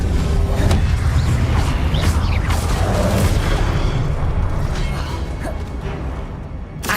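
Confringo explosive spell blasts in the Hogwarts Legacy video game, heard as a dense, loud run of booming, rumbling bursts mixed with crackling debris and clattering effects. The din is sustained and fades slightly toward the end.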